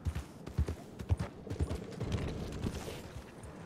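Horse hooves clip-clop in a steady rhythm, several thudding steps close by, with faint background noise.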